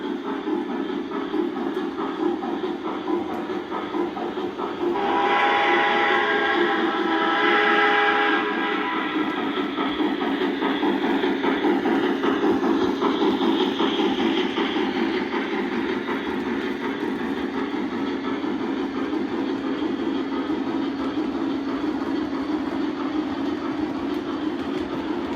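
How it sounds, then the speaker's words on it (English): A model steam locomotive chuffs, its beats triggered by a small magnet mechanism, in a steady, even rhythm with a brief brighter whistling tone partway through, loud and close at first, then holding steady. "that 4 chuffs being triggered off my little magnet machine there is pretty reliable at any speed"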